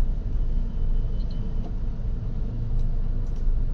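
Traffic on Commonwealth Avenue rolls by as a constant deep rumble of engines and tires, muffled as if from within a car, with a few faint higher tones over the drone.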